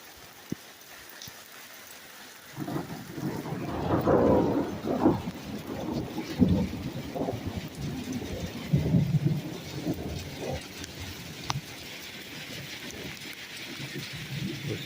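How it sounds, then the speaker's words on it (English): A close thunderstorm with lightning and the first small hail. Steady rain hiss runs throughout, with heavy rolling thunder rumbling loud and near from a few seconds in, fading back toward the end. "There's a good thunderstorm, good lightning storm right here."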